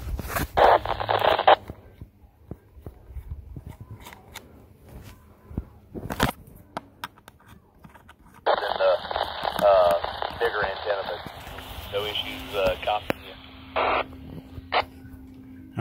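A Radioddity GA510 10-watt handheld radio on a rubber ducky antenna receives a repeater, giving bursts of radio voice with squelch tails and handling noises in between.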